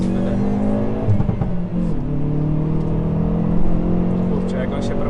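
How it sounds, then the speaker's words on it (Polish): A Hyundai i30N Performance driven at high revs, its engine droning steadily up close with brief exhaust pops and crackles, while people talk over it. "Cały czas jeździmy na wysokich obrotach tylko po to, żeby posłuchać tego popcornu z wydechu."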